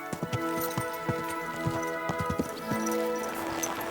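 A horse in Kingdom Come Deliverance 2 walks with a clear, rhythmic clip-clop of hooves, moderately near and steady, with a faint snort or whinny mixed in.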